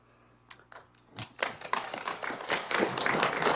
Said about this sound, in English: there was 2 rounds of applause for the new Second Line name for the buses